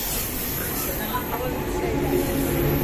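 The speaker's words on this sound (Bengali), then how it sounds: "এসে গেছে আমাদের ট্রেন" A local train from Howrah toward Digha rolls into the station with a loud, continuous rumble and hiss close by, mixed with indistinct voices on the platform.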